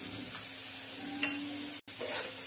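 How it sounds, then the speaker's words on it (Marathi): Masala roasting in a pan for Marathi-style egg curry, a soft continuous sizzle up close with a few light stirring clinks and a momentary break. "हे बघा अशा प्रकारे आपण छान मसाला भाजून घेत आहोत."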